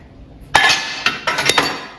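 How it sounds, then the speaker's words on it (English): Four sharp knocks from a rubber hammer striking a ball joint on a GM A-body front upper control arm, with a single hit followed by a quicker cluster of three. The clanks are close and ring briefly against the metal. "I could probably hit it with a rubber hammer and knock it out now."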